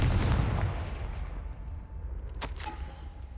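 A Confringo spell explosion in the video game Hogwarts Legacy, a loud deep boom at the start that rumbles and fades away, followed by a brief sharp crackle.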